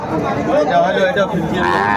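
A Friesian heifer calf moos amid the bustle of a cattle market, a drawn-out bovine call over steady crowd chatter and nearby voices.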